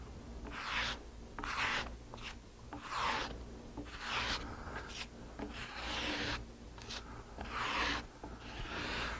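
A putty knife scrapes and rubs thinned grain filler into wood in repeated strokes, a soft rasping texture, close and fairly quiet.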